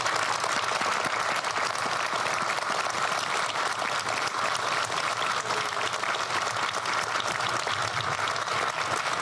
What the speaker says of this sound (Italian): ai quali chiedo davvero un grande applauso